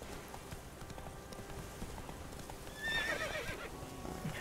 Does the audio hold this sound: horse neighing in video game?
yes